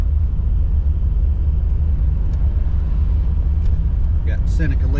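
Car driving on a road through Watkins Glen, a loud, steady low rumble of engine and tires heard from inside, with a brief voice near the end.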